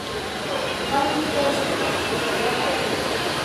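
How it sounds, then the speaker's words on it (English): A small model Go commuter train runs in a miniature-scale display with a steady hiss and rumble, continuous and fairly even, with faint voices in the background. "there's a Via train and Go commuter train in action here at Niagara Falls Railway Station"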